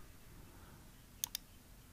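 Two quick, faint computer mouse clicks land close together in a quiet room while formatting cells in Google Sheets, with no speech.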